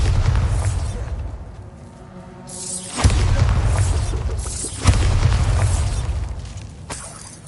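A Bombarda spell explodes in a video game, two deep booming blasts with crackling, shattering debris rolling over a constant low rumble.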